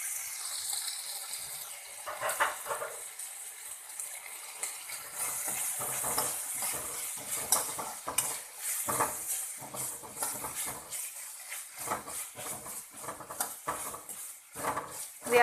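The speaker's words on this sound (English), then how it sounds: "We have to fry this until tomato gets soft." Tomato, garlic and ginger frying in a pan, with a steady soft sizzle and frequent clinks and scrapes of a spoon stirring against the pan.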